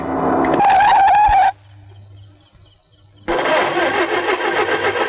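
A car engine in an old Telugu film scene cranks and struggles to start, a harsh, rough burst after a brief high tone and a quiet pause, loud and close.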